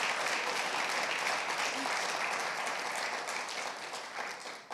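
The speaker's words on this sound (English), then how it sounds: "Let's give a round of applause to our GSV Cup 50." Sustained audience applause fills a summit hall at an education technology event, dense steady clapping that stays loud throughout and tapers only slightly toward the end.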